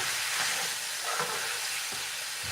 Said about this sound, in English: right now I have the ground beef and onions in the pan